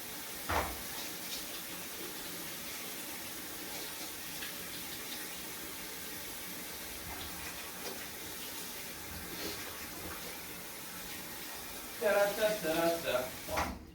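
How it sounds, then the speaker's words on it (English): Hands are washed under a running tap in a bathroom during a toilet repair: a steady wash of water runs throughout, with louder splashing bursts near the end. "let me wash my hands real quick because it's disgusting"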